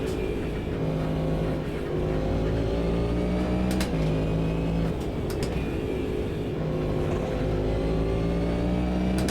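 Cadillac DPi prototype race car in the Automobilista 2 sim racing game, its engine droning loud and steady with rising revs, brief gear-shift dips and continuous road roar throughout, no talk.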